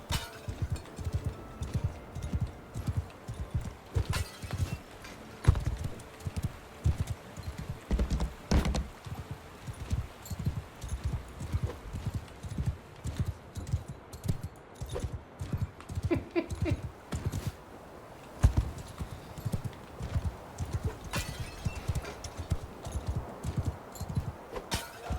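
Horse hooves clip-clop in a steady galloping rhythm throughout a Mount and Blade II: Bannerlord game session, moderately loud and continuous with occasional thuds and clatter.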